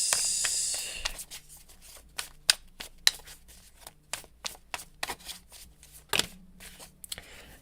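Tarot cards being shuffled and handled to draw one more card, a run of soft, crisp riffling and flicking bursts at close range, with short pauses and a sharper slap near the end.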